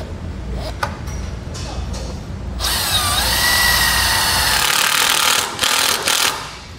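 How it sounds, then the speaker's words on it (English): A 10 mm socket on a power driver runs a self-tapping screw in to mount a replacement trailer breakaway switch: a steady, close whirring drill tone that holds for a few seconds, then stops, with brief handling noises before and after. "We're going to use a 10 millimeter socket to run this in."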